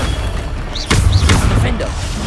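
A Bombarda explosion spell in Hogwarts Legacy goes off as a sudden deep boom and rumbling thud, mixed with shouted spell voices and combat effects, loud and close.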